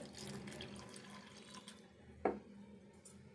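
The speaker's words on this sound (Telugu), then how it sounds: "ఇంట్లోనే కొన్ని వాటర్ పోసుకొని" Water runs into a pot of raw tamarind in a soft, steady, fairly faint pour, ending in a brief splash near the end.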